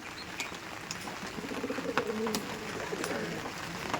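Pakistani Chotiyal breed pigeons coo nearby in soft, repeated murmurs, with a few faint clicks and rustles around them.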